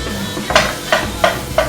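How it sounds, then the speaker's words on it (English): Butter added to onions and garlic in a hot pan gives a steady sizzle, broken by four evenly spaced bursts of stirring or scraping, close and fairly loud. "I'm going to go ahead and add the butter."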